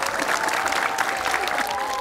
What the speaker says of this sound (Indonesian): Tepuk tangan dong buat Novi dong.